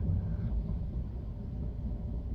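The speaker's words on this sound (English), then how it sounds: "I hope y'all can't hear the thunder, but you probably can." Outside thunder gives a low, steady, distant rumble that continues evenly throughout, with no voices on top.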